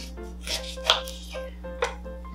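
A knife slices through a lime and a lemon on a board, cutting each fruit in half with a few short, crisp chopping strokes, close and fairly quiet over a steady low hum.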